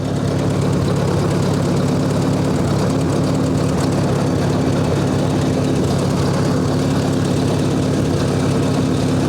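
A 1958 Ford 851 tractor's engine labors steadily and loudly under heavy load while unloading a pallet of sand, a continuous close rumbling drone with no talk.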